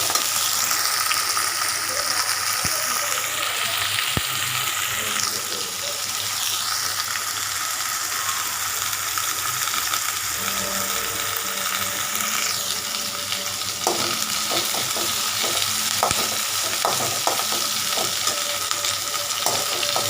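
Curry leaves crackle in hot oil with onions and green chilies for a lotus stem gravy: a loud, steady, close sizzle throughout, joined by spatula scrapes and clatter in the later part.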